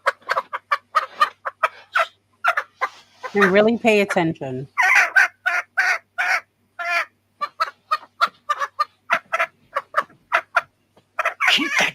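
A chicken clucks and squawks in a short agitated burst amid steady conversation, the bird's call rising briefly over the talking voices before fading out as people keep speaking.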